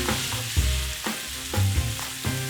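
Sausage browns in a hot pan for barbecue beans, crackling and sizzling steadily up close while a spatula stirs and pushes the pieces in repeated scraping strokes, with no talk.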